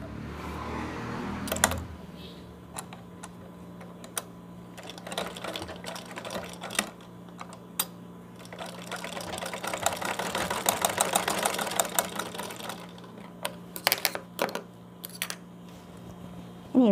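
A sewing machine stitches lace onto fabric for a newborn's napkin hanger, its motor whirring steadily in bursts of rapid stitching separated by short pauses and clicks. No one speaks.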